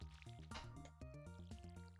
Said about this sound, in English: let us water our plants